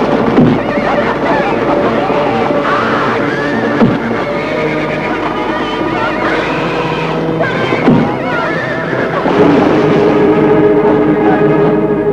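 A horse neighs several times over steady clip-clopping hooves, loud and dense, in a busy film scene with a full, constant background.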